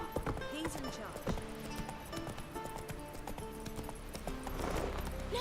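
Roach, the horse in The Witcher 3, galloping with quick, rhythmic hoofbeats at moderate volume, a brief snort or whinny in the mix, under game music and faint voices.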